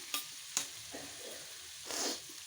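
Curry being stirred in a pan while it simmers, with a few faint scrapes of the spoon and a soft sizzling swell, quiet and close with no talk.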